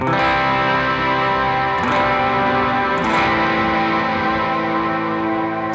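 A distorted electric guitar on the bridge pickup rings out in sustained, thick chords, strummed a few times and left to drone loudly.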